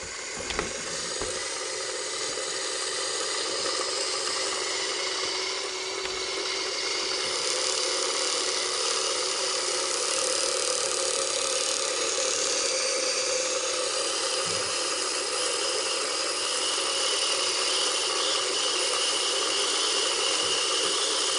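An Elna Excellence 720 Pro sewing machine winds a bobbin with a steady, high-pitched motor whir that holds even and unbroken from start to finish, close by and alone.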